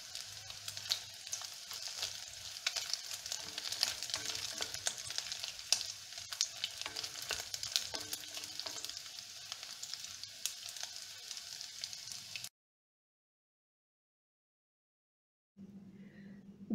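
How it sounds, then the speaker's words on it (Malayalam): Beef pieces shallow frying in a little oil for chilli beef, a continuous crackling sizzle with small pops for about twelve seconds, then a sudden break to silence before a fainter return. "കുറച്ച് ഓയിൽ ഒഴിച്ചിട്ട് നല്ലോണം അങ്ങ് ഷാലോ ഫ്രൈ ചെയ്തെടുത്താൽ മതി."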